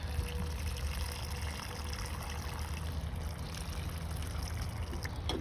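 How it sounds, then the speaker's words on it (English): Water pours steadily onto a tomato plant's bone-dry soil during transplanting, a soft continuous splashing trickle at close range with no talk. "Just keep watering it, especially this one because it was bone dry."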